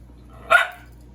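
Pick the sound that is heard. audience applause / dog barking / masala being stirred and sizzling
dog barking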